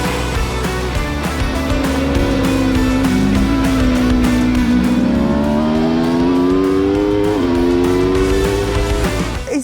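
Aprilia RSV4 Factory 1100cc superbike engine at Cadwell Park, a loud, close onboard engine note that rises and falls in pitch through gear changes and shifts, with wind rush underneath and no talk.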